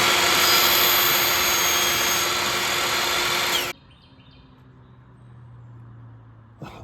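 A power saw cuts a thin slice from scrap wood, a loud high whine for about four seconds that stops abruptly, leaving a quiet hum and a brief clunk near the end.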